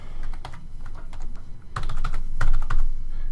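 A card number typed on a computer keyboard, a quick sequence of close key presses with a few louder taps near the end, over light background noise.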